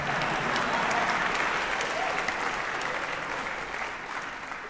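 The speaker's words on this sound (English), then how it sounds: "Round of applause, actually, if you don't mind." A concert audience at a performance of Messiaen's Quartet for the End of Time claps in a full, steady round of applause that fades slightly toward the end.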